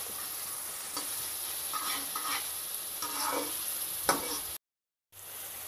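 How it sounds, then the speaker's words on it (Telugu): Chopped onions fry in a pan for pav bhaji, a soft steady sizzle with a few scraping stirs, close and fairly quiet, cutting out briefly near the end. "ఇప్పుడు మన ఆనియన్స్ కొంచెం ఫ్రై అయ్యాయి"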